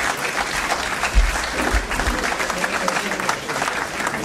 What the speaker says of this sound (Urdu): تالیوں کی گونج میں